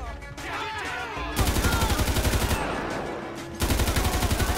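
Bursts of automatic gunfire crackle during a GTA 5 shootout in a police special operations mod. The shots are dense and rapid, come in two long loud volleys close by, and are separated by a short lull.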